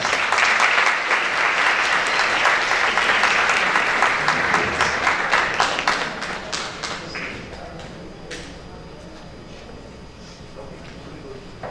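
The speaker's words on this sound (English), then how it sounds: "Let's give them another round of applause." Applause for newly installed 2023-2024 class officers crossing to a stage: dense, sustained clapping from a large crowd, loud at first, then thinning and fading to scattered claps over roughly twelve seconds.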